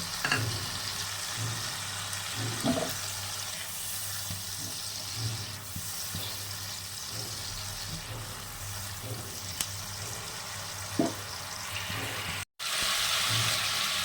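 Spice paste for a small bhola fish and poppy seed curry sizzles steadily in a pan with water, a soft continuous frying hiss broken by occasional scrapes and clinks of stirring.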